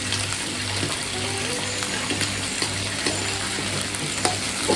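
Ginger and green chili frying in hot oil while being stirred, a loud, continuous close sizzle with scraping of a spoon and a low background hum, with no talking.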